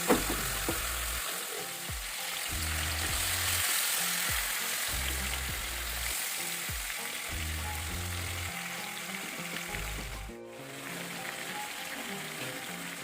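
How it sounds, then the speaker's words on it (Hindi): Marinated chicken pieces for stovetop tandoori chicken sizzling in a pan over high heat, a loud continuous crackle with rhythmic low thumps of stirring or handling, close and without speech. "अब इन मैरिनेट किए हुए चिकन पीसेस को पहले गोश्त वाली साइड से डालना है"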